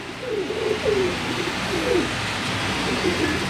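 Pigeon cooing on a balcony, several short rolling coos repeated at irregular intervals over steady background noise, moderately close.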